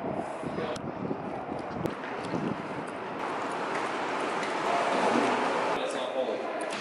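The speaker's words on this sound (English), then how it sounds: "Holy wind." Strong wind blows hard against the microphone as a steady, roaring rumble that swells slightly toward the end.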